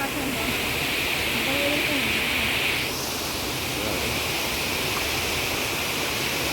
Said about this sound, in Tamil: சரி, இதுதான் எக்ஸாக்டாக அந்த வாட்டர் ஃபால்ஸு.